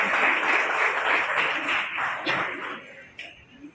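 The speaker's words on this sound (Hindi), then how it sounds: "एक बार जोरदार तालियों से स्वागत करें।" Loud, dense applause welcomes the chairman of Kaivalyadham Yoga Institute at a yoga event in Lonavala, sustained for about three seconds before thinning out into a few scattered claps.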